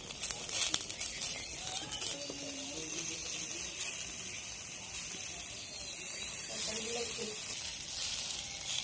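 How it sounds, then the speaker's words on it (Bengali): Mustard oil sizzles on a hot griddle while banana leaf parcels of small fish cook, a steady crackling hiss with a few mechanical clicks and a person talking now and then. "চাটুটা গরম হয়ে গেছে বন্ধুরা। এবার আমি হালকা করে তেল দিয়ে দেবো, সরষের তেল।"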